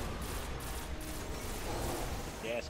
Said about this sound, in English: You're firing a pulse rifle.